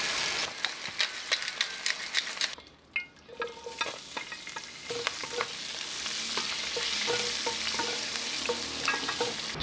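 Steak searing in a smoking-hot pan with olive oil, a continuous crackling sizzle with sharp pops, briefly dipping before settling into a steady fry, close up with no talk.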